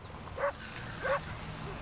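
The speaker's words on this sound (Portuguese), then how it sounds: "Por que esse cachorro não para de latir?" A dog barks twice from a short distance on a farm field, two brief yaps about half a second apart over a low, steady background hum.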